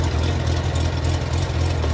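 A 1996 Honda Goldwing motorcycle with 15k miles idles close by, a steady, low, even engine rumble running the whole time with no revving.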